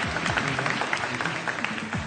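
Studio audience on a television quiz show clapping to vote on a contestant's answer, a scattered burst of hand claps with individual claps audible and a voice briefly underneath.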